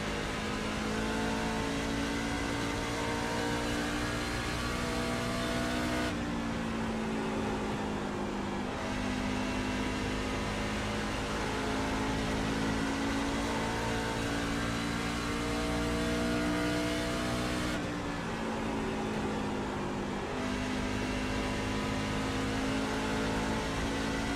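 NASCAR Truck Series trucks racing at Rockingham, a continuous loud engine drone with pitch shifting as the trucks accelerate and pass, two sharp changes in tone where the field sweeps by.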